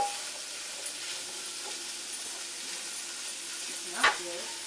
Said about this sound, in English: And we're going to let that saute.